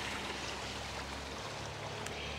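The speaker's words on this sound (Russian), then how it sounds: "Вот тут тоже есть небольшой водопадик." A small waterfall feature beside a backyard swimming pool at a Florida show home in Winter Garden gives a steady, close rush of falling water with no speech over it.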